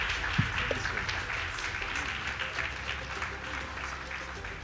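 Congregation at a theology graduation ceremony applauding, a steady, moderately distant wash of clapping from a crowd, with voices murmuring underneath.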